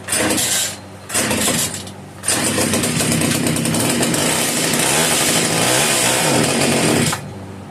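A rare Italian-made Castor 330 Antivib chainsaw by Alpina sputters in two short bursts, then catches and runs loud and steady with a rough two-stroke rattle before cutting off.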